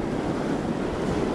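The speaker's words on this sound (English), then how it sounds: "These waves and wind are just crazy." Ocean waves and strong wind during a storm at sea off Rhode Island, heard from a fishing boat as a steady, loud rushing roar with wind buffeting the microphone and no talking.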